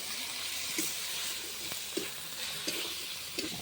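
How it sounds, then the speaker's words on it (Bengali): Tomato, turmeric and chili powder fry in a pan with a steady close sizzle, broken by a few soft scrapes of stirring, with no talk. "ভালোভাবে মশলাটা কষিয়ে নিতে হবে"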